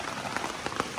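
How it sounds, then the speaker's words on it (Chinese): Rain falls outside in a forest during a fishing trip, giving a steady, close hiss with scattered louder drop hits throughout the short stretch. "下着雨啊"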